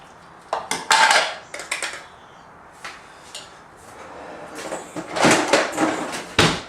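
Garlic being pulsed in a food processor, heard as bursts of rattling, clattering plastic and blade noise, with sharp taps against the container in between; close and fairly loud, no talking.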